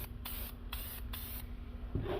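Oil sprayed onto a cold air intake filter in several short hissing bursts with brief pauses, close and fairly loud, ending with a longer spray.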